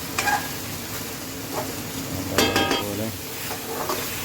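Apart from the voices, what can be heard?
stirring garlic, ginger, green chili paste frying in pan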